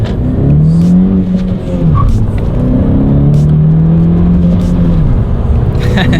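A 2017 Honda Civic Si engine revving hard and accelerating, its pitch rising through gear changes, loud and close, with no talking.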